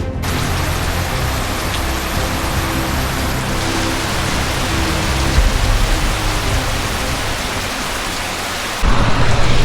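Heavy rain pours in a dense, loud, continuous roar during a bicycle tour toward Copenhagen, with thunder rumbling low underneath and a sudden louder surge near the end.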